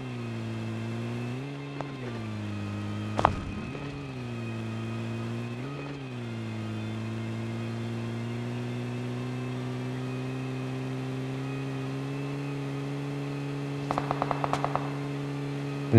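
Steady video-game car engine droning at a constant pitch while driving, with slight revs and dips early on, a sharp knock around three seconds, and a brief rattling burst near the end.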